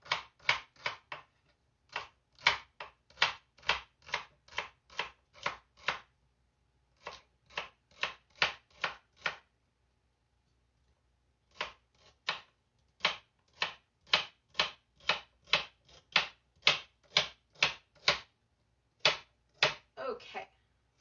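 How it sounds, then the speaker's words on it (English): Knife dicing celery small on a cutting board in a home kitchen, steady rapid chopping taps in several bursts with brief pauses between runs, close and crisp. "We want to dice our celery pretty small."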